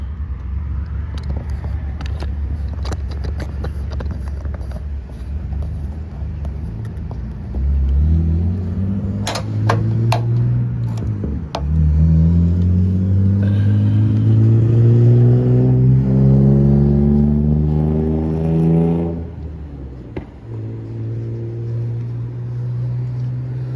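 An XPro motorcycle engine idles at a filling station, then revs and accelerates away with rising pitch through several gear changes, loud and close, before settling back to a steady throb.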